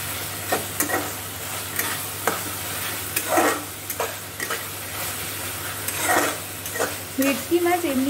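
Spice masala fries in oil for Bengali bhetki fish kalia, a steady close sizzle with repeated spoon scrapes and stirring strokes against the pan at irregular intervals.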